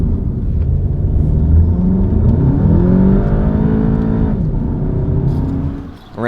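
A Volkswagen GTI fitted with an aftermarket Unitronic intake, air duct and turbo inlet rumbles and revs as it pulls away, with its engine note climbing and then easing off near the end.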